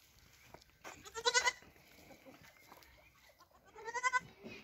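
Backyard dairy goats and Kazakh goats bleat in two loud, quavering calls, one early and one near the end, with quieter farmyard shuffling between them and no talk.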